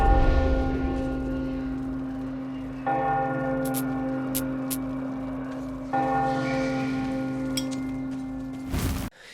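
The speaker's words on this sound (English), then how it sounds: "we hear ghostly wails and bells, along with inhuman groaning" Deep ghostly bells in the video game Metro Last Light, three resonant strikes a few seconds apart, each ringing out in a long sustained hum, with faint clinking between and a sharp sound at the end.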